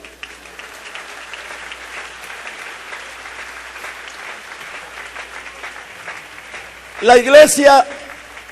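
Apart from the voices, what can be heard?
church congregation applause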